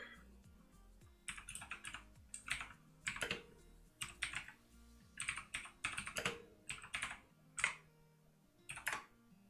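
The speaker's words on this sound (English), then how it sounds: "I don't know what I was typing there" Fingers typing on a computer keyboard in quick clattering bursts separated by short pauses, close and fairly quiet, with no talking.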